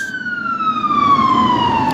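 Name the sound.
emergency vehicle sirens: fire, police, ambulance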